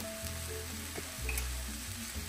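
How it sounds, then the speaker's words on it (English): Brussels sprouts and onions sizzling in a pan for a Thanksgiving Brussels sprouts gratin as they get stirred around, a steady close frying hiss with a few soft scraping stirs. "And I'm gonna stir it around."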